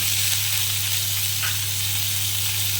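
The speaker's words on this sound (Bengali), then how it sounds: "সেই টমেটোটা প্রথমে দিয়ে দেবো তেলের মধ্যে" Tomato pieces dropped into hot oil left over from frying aubergine for a Bengali begun ilish dish give a steady, close, even sizzle that holds for the whole stretch, with a low hum underneath.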